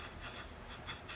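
Steady dry rubbing and rasping as weathering powder is worked over an HO scale model boxcar, a continuous close scratchy friction at low level with gentle swells and no voices.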